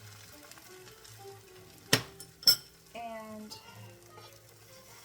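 Beaten eggs for scrambled eggs hit a hot pan, with two sharp clatters of utensil and pan followed by a soft sizzle and brief stirring; a voice speaks briefly.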